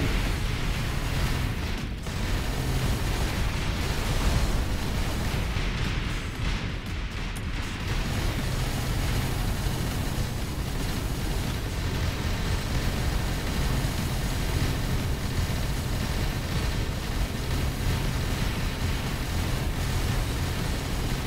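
Black cannons fire in space combat in Avorion, a continuous loud wash of rumbling blasts and overlapping explosions that runs unbroken, with no voices over it.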